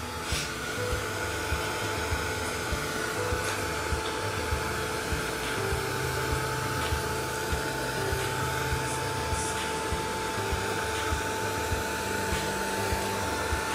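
A hair dryer runs steadily at close range, drying texture shimmer paste on a decorative nameplate, with a constant whirring hum and airy hiss throughout, no talking.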